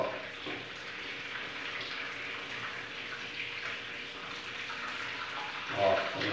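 Slices of rabanada, bread soaked for French toast, fry steadily in a pan with a continuous soft sizzle and hiss throughout, a brief louder crackle near the end, and no talk over it.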